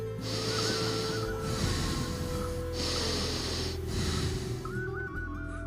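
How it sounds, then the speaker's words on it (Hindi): Frightened, heavy breathing in a dark haunted-mansion scene of a Hindi horror animation: several long, rasping snort-like breaths in a regular rhythm, close and steady over a constant low drone and high ambient hiss, with no talk. "सिर्फ उनके डर से भरी सांसों की आवाज सुनाई देती है"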